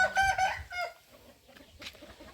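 On a poultry farm keeping fighting chickens, one bird lets out a loud, strained call up close. Quieter scattered clucks and rustling follow as the flock settles.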